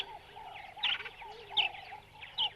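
Birds call at Lake Baringo, a stopover for migrating birds, with three sharp squawks spaced through a busy background of chattering and chirping calls.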